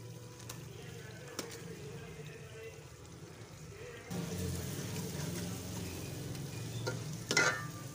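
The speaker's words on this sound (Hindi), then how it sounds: "अब हम ये कसूरी मेथी ये थोड़ी सी मिक्स करेंगे" Okra and ridge gourd curry being stirred with dried fenugreek leaves in a pan over heat, a steady soft scraping and sizzle throughout that grows a little louder midway, with a brief sharper clatter near the end.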